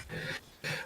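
A puppy gives two short whimpering yelps, close and fairly loud, separated by a brief pause.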